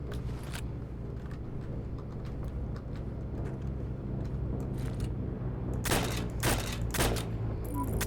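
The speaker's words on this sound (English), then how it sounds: "I'm getting shot at." Gunfire in the World War II shooter Heroes and Generals: rapid bursts of shots rattle over a steady rumble of vehicle noise, growing denser and louder toward the end.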